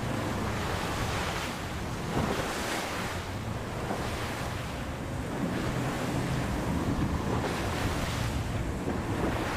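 Big ocean waves roll and crash under strong gusting wind during a TP52 sailboat race off Cascais, a loud continuous roar of surf and buffeting air with no voices.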